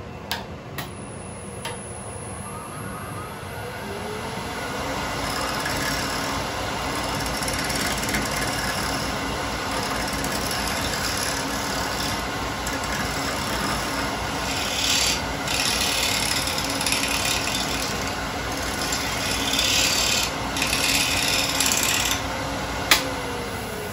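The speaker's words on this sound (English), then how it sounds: "basically sand the outside of it with this tool. So I run the lathe fast and then I constantly keep moving my tool" A wet, freshly turned wood bowl is sanded with a tool on a fast-spinning lathe, giving a continuous close rasping rub over the motor's steady hum, with brief shifts as the tool moves.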